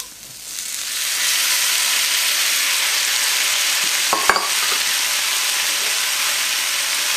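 Red and green peppers and tomatoes hit a hot wok for paella and erupt into a loud, steady sizzle and hiss that holds for several seconds, with one brief metallic clink of a utensil partway through.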